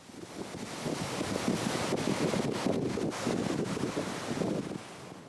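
Waves wash in at a beach shoreline under steady, loud wind buffeting the microphone, a continuous rushing roar across the whole stretch with no voices.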